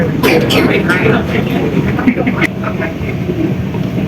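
A China-built Bangkok MRT Yellow Line monorail train runs between Lat Phrao and Samrong, making a steady, close rumble with light rattles while a person talks over it.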